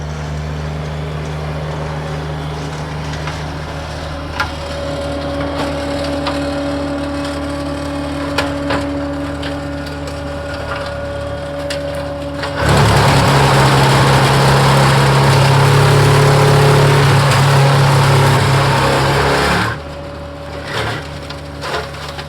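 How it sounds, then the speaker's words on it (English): A flail mower on a compact tractor mulches brush, the engine droning steadily before the flails bite in with a loud, dense crushing and splintering roar for about seven seconds, then easing back to the engine hum. "the flail mower was able to really kind of mulch this up and get it even further down to the ground"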